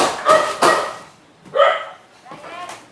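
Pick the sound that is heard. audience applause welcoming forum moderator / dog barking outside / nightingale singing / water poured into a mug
dog barking outside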